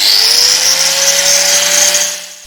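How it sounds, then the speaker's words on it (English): A power tool grinds off a nut on the exhaust centre section of a 1.9 PD TDI Skoda Fabia Mk1, a loud, close, steady high whine lasting a couple of seconds with a slowly rising pitch. "Grind it off. Being careful where the sparks go, of course."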